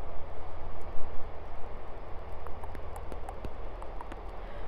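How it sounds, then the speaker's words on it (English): A train approaches through Basingstoke station on the South Western Main Line, a broad, steady rumble with scattered metallic clicks and clanks building gradually, heard from the platform at moderate distance. "There's a train coming."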